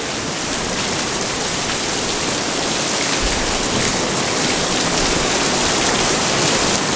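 Heavy rain pounds a big top circus tent with water flowing through, giving a loud, dense, unbroken hiss of drops on canvas that stays constant throughout.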